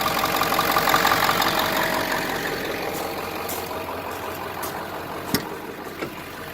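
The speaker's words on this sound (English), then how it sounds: "Sounds like brand new truck." A rebuilt Ford Powerstroke 7.3 diesel truck engine idles steadily and close up with a dense, even mechanical drone, punctuated by a few sharp ticks and clicks near the end.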